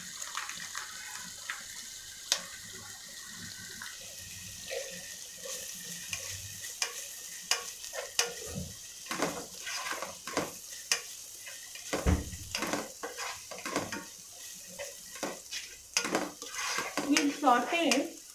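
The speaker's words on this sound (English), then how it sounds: "Saute until the ginger garlic paste raw taste should go" Soybean chunks sauteing with ginger garlic paste in a pan, giving a soft steady sizzle with frequent light scraping and stirring clicks close by, the stirring growing busier toward the end; no talking.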